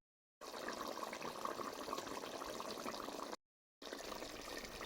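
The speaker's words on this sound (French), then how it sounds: "je vais rajouter un peu d'eau" Water pours steadily into a pot of broth and vegetables for a smoked chicken tomato sauce, a close, even splashing stream that runs for about three seconds, breaks off briefly, then resumes.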